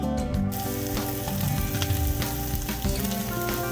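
Canned corned beef fries in a pan with a loud, dense, continuous sizzle and crackle, punctuated by a few sharp scraping and stirring taps from a utensil, close up with no voice.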